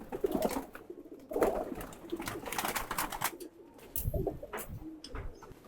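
Pigeons in a loft, some with watery eyes after rainy weather, coo in low murmuring bursts amid rustling and scattered clicks, faint and mid-distance with no talking.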